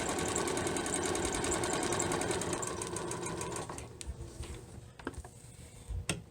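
A sewing machine stitches a fabric face mask, a fast, steady mechanical whirr for about four seconds before stopping, followed by a few small handling clicks.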